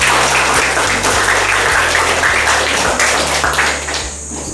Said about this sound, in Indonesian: Biasa tepuk tangan.